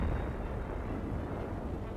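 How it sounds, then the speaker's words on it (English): Shells from the crippled Nazi battleship Bismarck bursting at sea during a World War II naval battle, heard as a low, rumbling, muffled roar of distant blasts on an old newsreel soundtrack, steady and fairly faint. "Shells from the doomed Nazi battleship continue to burst."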